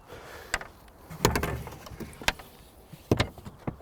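Scattered wooden knocks and clunks as a large object is shifted and loaded into a car trunk, with sharp thuds between softer rustling.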